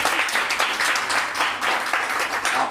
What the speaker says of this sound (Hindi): चलिए तो एक बार तालियां इनके लिए।